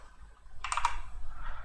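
A few quick keystrokes on a computer keyboard, a short close cluster of clicks in an otherwise quiet room.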